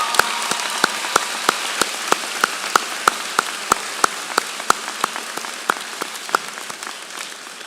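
A commencement ceremony audience applauds families and friends, a steady wash of clapping with sharp, regularly spaced nearby claps standing out above the dense background patter.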